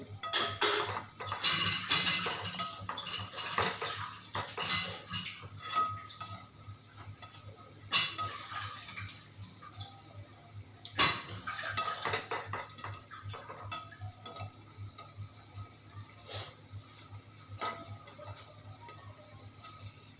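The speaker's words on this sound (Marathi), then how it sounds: "भजे असे एक बाजूने छान मस्त फ्राय झालेले आहे तर मी आता त्याला दुसऱ्या बाजूने पण असे पलटी करून घेते" A utensil scrapes and clatters in a frying pan as besan pakoda in hot oil are turned over, with intermittent metallic clinks and a low sizzle, fairly quiet and close.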